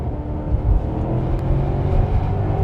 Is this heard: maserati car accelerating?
yes